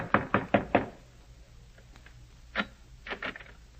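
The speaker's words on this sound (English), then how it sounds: "I walked quickly to Brutus's villa and knocked on the door." Four quick, close knocks on a villa door open a 1954 radio comedy sound effect, followed by quieter scattered footsteps or taps.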